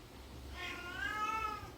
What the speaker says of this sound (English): That cat is driving me crazy.